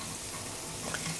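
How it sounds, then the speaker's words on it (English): Ginger strips sizzle steadily in a hot pan, a soft, even crackling hiss that stays close and continuous with no talking. "So it's starting to sizzle slowly."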